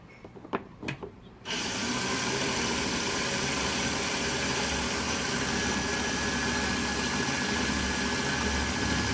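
A belt grinder at 1000 grit mirror polishing a machete blade: a few sharp clicks, then the motor starts and roars on in a steady, loud, continuous hum for the rest of the time.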